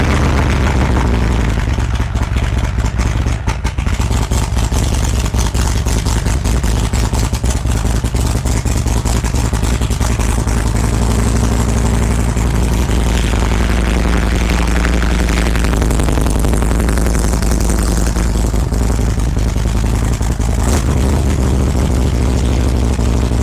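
An engine in a shed cranks over and catches, then runs at a loud, rough idle very close by, a steady low rumble that lasts throughout with slight shifts in pitch.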